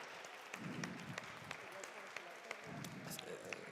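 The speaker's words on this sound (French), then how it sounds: "j'aimerais qu'on applaudisse quand même les deux compétiteurs pour ce premier match de qualité" At a live gaming competition event, the audience applauds the two competitors after a match, a faint, distant patter of clapping that rises and fades under a voice speaking.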